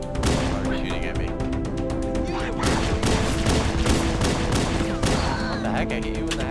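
Rapid bursts of gunfire crackle through a Halo match, dense and loud over a steady bed of game noise, with players talking throughout.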